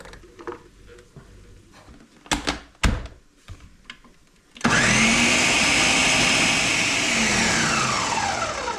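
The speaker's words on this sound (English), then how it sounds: "Just want to blend them up for about 10 seconds." Countertop blender chopping onions and garlic for spaghetti and meatball sauce, switching on after a few clattering knocks and then roaring loudly and steadily for about four seconds, its whine shifting slightly as the contents break down.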